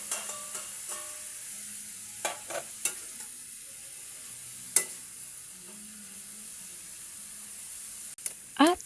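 Pinakbet vegetables frying and being stirred in a pan, a soft sizzle under sharp clanks and scrapes of the spatula at irregular intervals, louder clattering near the end.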